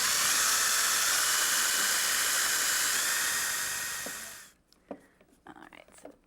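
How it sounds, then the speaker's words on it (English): Steady high-pitched drill whine from a bit boring into hardwood for an ottoman frame, loud and continuous for about four seconds before cutting off, followed by a few quiet clicks and handling knocks. "then just use a drill bit to go into the hardwood so that these little screws have a place to thread into"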